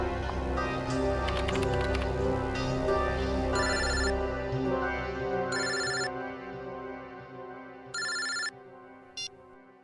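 Telephone ringing in bursts of electronic trills, loud and near, over a busy backdrop of music and ambient noise that fades toward the end, leaving the last short rings nearly alone.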